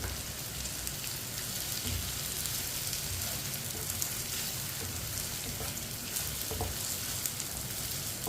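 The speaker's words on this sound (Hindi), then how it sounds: "कटी हुई अरबी डाल लेंगे।" Cut taro (arbi) sizzling and frying in masala in a pan, a steady dense crackle and hiss with faint stirring scrapes, close and continuous with no voices.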